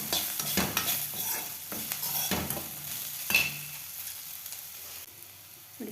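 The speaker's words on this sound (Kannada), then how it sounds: "ಇವಾಗ ಇದಕ್ಕೆ ಒಂದು 4 ಎಲೆ ಕರಿಬೇವನ್ನು ತೊಳೆದಿರೋದು ಹಾಕ್ತಾಯಿದ್ದೀನಿ" Okra frying in hot oil in a pan as washed curry leaves are added, a steady close sizzle broken by several stirring scrapes and a brief louder crackle, with no talking.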